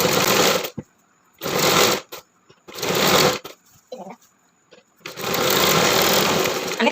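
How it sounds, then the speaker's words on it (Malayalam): A sewing machine stitches a churidar sleeve fabric to the body fabric in loud, steady bursts, with four runs of whirring broken by short pauses filled with fabric handling, the last run long and continuous. "കൈൻ്റെ തുണി നമ്മളെ ഉടലിൻ്റെ തുണിയൊക്കെ ഒരുമിച്ച് വെച്ചിട്ട് ഇങ്ങനെ തയ്ച്ചു കൊടുക്കുക"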